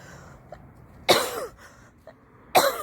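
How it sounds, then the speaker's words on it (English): Two sharp, harsh coughs about a second and a half apart, close to the microphone, with a quiet background between them. "I start coughing."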